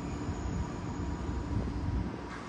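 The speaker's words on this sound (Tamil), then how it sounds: "மெட்ரோ ட்ரெயின் போய்ட்டுருக்கு பக்கத்தில்." A metro train runs close by beside a premium gated residential community in Anna Nagar, giving a steady, loud low rumble that holds without letup and carries no speech.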